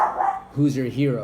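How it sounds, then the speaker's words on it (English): A dog barks outside in two short harmonic bursts, moderately loud and somewhat distant, heard under and after a person's speech. "Sorry about the dog barking outside"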